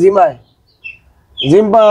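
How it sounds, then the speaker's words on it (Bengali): Day-old broiler chicks in a heated brooder pen give high, sharp peeping chirps in two close bursts separated by a brief quiet gap. "মুরগির বাচ্চা, ব্রয়লার মুরগির বাচ্চা"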